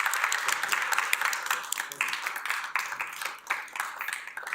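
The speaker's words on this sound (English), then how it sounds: "applause." An audience at a science competition's grand finals claps steadily and densely for several seconds, a warm crowd applause close by.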